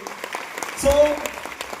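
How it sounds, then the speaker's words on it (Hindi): Scattered hand claps from an audience at a YTM India business event honouring guests, sparse and uneven, with a brief tonal voice-like sound in the middle. "तो हम चाहते हैं इनके लिए भी दिल से जबरदस्त ताली होनी चाहिए।"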